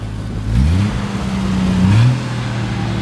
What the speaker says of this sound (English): Got the little 4-tip Anza exhaust on there.